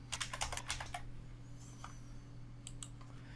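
Someone types a title on a computer keyboard, a quick run of close, crisp key clicks followed by a pause and a second short burst of taps.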